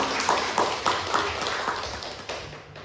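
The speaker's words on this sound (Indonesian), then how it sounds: "Kita kasih tepuk tangan dong buat Bu Tuti dan Bu Resi" Applause from a school audience for Bu Tuti and Bu Resi, steady clapping with rhythmic emphasized claps at moderate distance, fading slightly toward the end.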